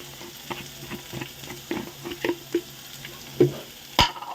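Chickpeas frying in hot oil for tempering, a steady close sizzle with stirring scrapes and light clinks over a continuous hiss, without any speech.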